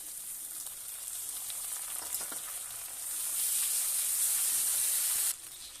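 Ginger garlic paste hits fried onions, dried chilli, cumin and bay leaf in a wok for a sea tengra fish curry. The hissing sizzle is soft at first, swells louder midway, then drops as stirring goes on.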